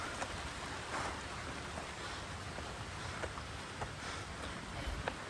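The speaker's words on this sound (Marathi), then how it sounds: "जोरात पाऊस आला आहे" Heavy rain hisses on leaves and ground under a tree, a dense, even wash of sound with occasional heavier drips, fairly quiet and without voices.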